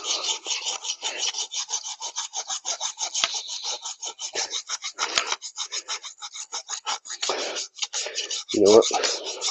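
A hand file rasps back and forth across a small metal part from a leaf vacuum/mulcher, removing a burr on its back side after grinding slightly blued the steel; steady close strokes repeat quickly with a brief louder scrape near the end.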